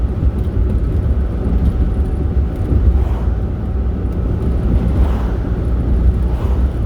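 Interior cabin noise of a 1994 Geo Metro on a test drive on a hot day, a loud continuous low road-and-engine rumble with faint rising whines, and no talking.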